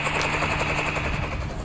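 Continuous loud rotor chopping from a helicopter in the Township mobile game, a dense rapid pulsing drone that runs without a break and with no talk.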